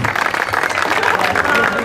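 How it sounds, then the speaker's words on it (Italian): Applause from the crowd at an Italian slalom car race prize ceremony in Cellara, a dense steady wash of clapping filling the short moment, with voices mixed in. "Un applauso a Emilia."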